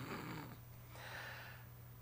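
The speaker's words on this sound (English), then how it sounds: "I love hearing me snore." A person snores while asleep, a soft low rumbling breath drawn in and let out under steady background hiss, with no talk.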